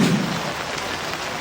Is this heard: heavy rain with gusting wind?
yes